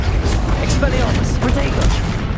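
Expelliarmus spells are cast in Hogwarts Legacy, producing punchy booming magical bursts in quick succession, with a voice heard alongside them.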